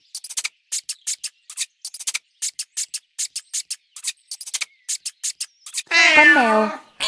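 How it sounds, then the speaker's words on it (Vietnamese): A run of sharp, evenly spaced clicks and taps gives way to a single loud, drawn-out cat meow near the end, close up and alone. "Con mèo."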